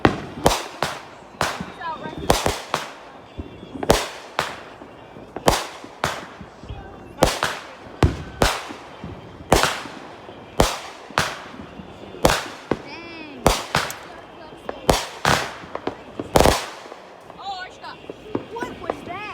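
Fourth of July fireworks and firecrackers burst in a rapid irregular string of sharp loud bangs, some near and booming, while people chatter and react between the blasts.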